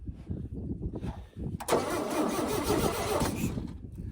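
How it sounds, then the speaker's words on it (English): An old oil field engine cranks and catches, then runs at a steady close roar with a loose alternator rattling, before the sound drops away near the end. "What was rattling? Is it just a fan or probably the alternator?"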